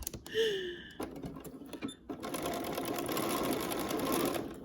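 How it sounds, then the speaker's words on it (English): A sewing machine stitches a quarter-inch seam allowance on a small fabric scrunchie wristlet. Brief starts give way to a steady, close, continuous mechanical whirr with rapid needle chatter, running alone without talk. "I'm just stitching quarter of an inch seam allowance"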